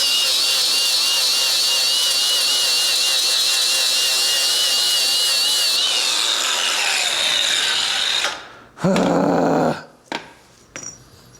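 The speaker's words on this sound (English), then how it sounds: "Put a flap disc on here. We'll hit that real quick." An angle grinder fitted with a flap disc grinds metal during a sandblast trailer build, making a loud, steady, high-pitched whine for about eight seconds before it winds down. A few short clattering bursts follow.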